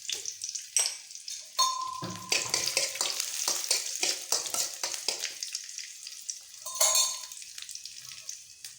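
Onions sauté in a pan, making a crackly, close sizzle broken by frequent spatula scrapes and taps against the pan, rising and falling in bursts, with no one speaking.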